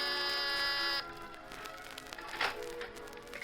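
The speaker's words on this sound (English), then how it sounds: "And then you've got your finger on the door buzzer of Mr." Door buzzer at a high-rise penthouse apartment, a steady electric drone for about a second that then cuts off, followed by faint room noise and soft shuffling.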